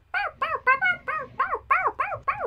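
A puppy gives about eight quick high yips in a steady, even rhythm, loud and close, with nothing else heard.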